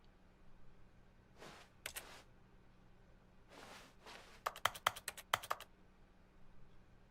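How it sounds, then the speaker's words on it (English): Clicky computer keyboard being typed on in quick bursts, a few soft keystrokes early and then a fast rapid-fire cluster of sharp clicks, faint and close in a quiet room. "you can hear the clicky, like, typing"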